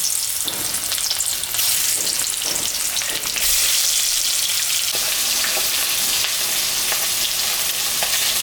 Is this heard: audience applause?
no